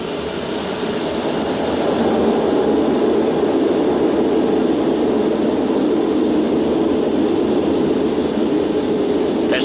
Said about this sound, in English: Okay, we're cleared for takeoff.